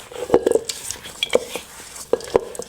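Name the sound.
mixing brown butter cookie dough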